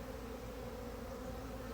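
Honey bees from a backyard hive under treatment buzz in a steady, continuous drone, close and unbroken for the whole moment.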